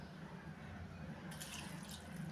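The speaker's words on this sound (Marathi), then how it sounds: "आता यामध्ये आपल्याला पाणी घालायचं आहे" Water is poured onto dried grated potato in a kitchen, a soft trickling and dripping splash that is faint and brief, heard alone without talk.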